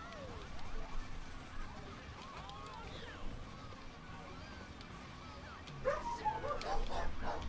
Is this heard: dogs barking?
yes